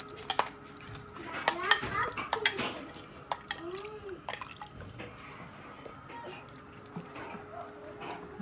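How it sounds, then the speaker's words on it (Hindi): Tamarind with water is added to a frying pan on a kitchen stove, with clattering cookware, a scrape of a utensil and a brief splash of liquid, followed by lighter sporadic clinks. "हमने अपना फ्राई पैन चूल्हे पे रख दिया है और ये पानी समेत हम इमली"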